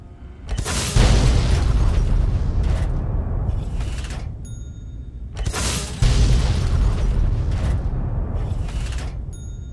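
A Fat Man mini-nuke from the video game Fallout 3 detonates twice, each blast a loud roaring boom that rumbles and slowly decays, with small debris crackles between the two explosions and no speech.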